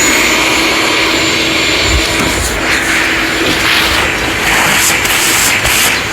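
A shop vac runs steadily after being switched on, its loud, broadband whooshing roar holding constant with a faint motor whine throughout, no talking.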